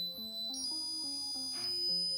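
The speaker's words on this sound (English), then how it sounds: "Piezo buzzer connected through the PCB to the Arduino through these 4 wires." Piezo buzzer driven by an Arduino through a PCB: a quick sequence of short electronic tones stepping up and down in pitch like a simple melody, close and fairly soft, no talking.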